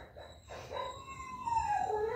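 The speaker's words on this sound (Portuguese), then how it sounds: "Cachorrinho." A small dog howls and whimpers, a rising, wavering whine that stretches out and grows louder toward the end, close by with no talk over it.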